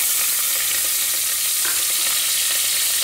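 Onions sautéing in hot oil with mustard seeds for sambar rice, a loud, steady close-up sizzle and crackle with faint stirring.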